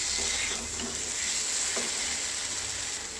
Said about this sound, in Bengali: এই মশলাটা ভালো করে কষে নেব।